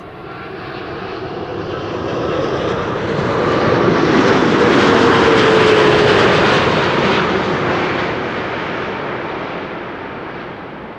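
Emirates Flight 147, a large airliner, roars overhead as it approaches an airport, its broad jet engine rumble swelling to a loud peak mid-pass and then slowly fading, with no talking over it.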